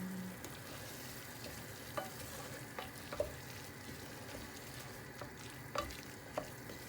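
Seasoned food sizzling in a pan while being stirred, a steady close frying hiss broken by several sharp scraping clicks of the utensil against the pan.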